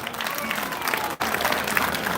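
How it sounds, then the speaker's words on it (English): Audience applause at the closing of a national agriculture fair conference, a dense, steady wash of clapping with a brief dip partway through, crowd murmur beneath. "So clap for yourself."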